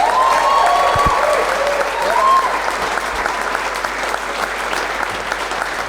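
Audience applause for the champions at an All-Ireland men's 40x20 handball doubles final presentation, a loud sustained roar of clapping that swells early then settles to a steady level, with a few faint voices mixed in.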